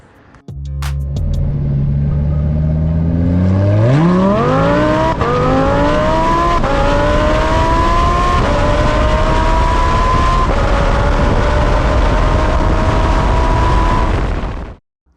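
A supercharged Lamborghini Huracan EVO with an aftermarket exhaust pulls away and accelerates hard, its engine note climbing steadily in pitch through the gears, loud and close for the whole run.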